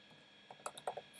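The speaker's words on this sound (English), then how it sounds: "This is a lot of typing" Soft clicks from typing on a computer keyboard while setting up code files, quiet and close, with a few irregular keystrokes that grow in the second half.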